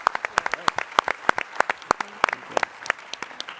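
Applause from a conference audience at TechCrunch Disrupt 2022 in San Francisco, heard as a moderate stretch of separate, fairly sparse claps from a smallish crowd with no talking over it.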